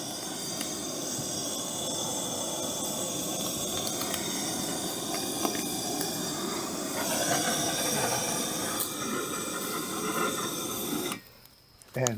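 Lobster tails sear on a Blackstone griddle with a steady, crackling hiss that continues throughout, then quiets near the end.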